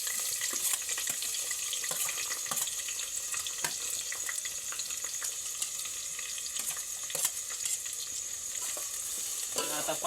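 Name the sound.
onions frying and being stirred in a pan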